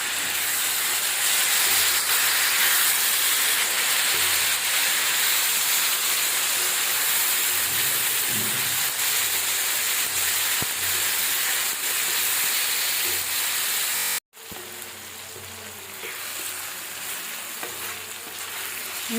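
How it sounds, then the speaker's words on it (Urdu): Tomatoes and green chili sauté in masala for tawa chicken, giving a loud, steady sizzle throughout. A brief gap comes near the end before the frying continues. "اب ہم اس میں ٹماٹر اور گرین چلی ایڈ کرتے ہیں، تھوڑا سا اس کو بھون لیتے ہیں۔"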